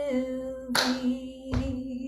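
Two sharp hand claps land in a song rhythm about three-quarters of a second apart, sounding over a sustained sung note, close and clear.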